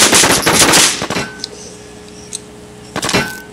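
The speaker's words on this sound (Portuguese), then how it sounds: "e um na casa tirando tiro" Bursts of rapid gunfire in the online zombie survival shooter Infestation during a PvP fight, a dense rattling volley at the start, then quieter isolated shots and a second short burst near the end.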